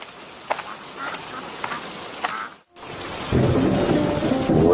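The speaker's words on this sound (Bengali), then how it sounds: "ওরে বাপরে, কি জোরে বৃষ্টি নামছে!" Heavy rain pours down in a cartoon, a steady loud hiss with a short break before it surges harder, and thunder is suggested under the downpour.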